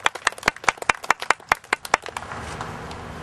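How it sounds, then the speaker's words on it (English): Scattered, distinct hand claps from a small crowd at an outdoor WikiLeaks rally in Launceston, sharp and uneven for about two seconds before thinning into a soft murmur of background noise. "So can we just give a round of applause for Bishop John Harrower, please?"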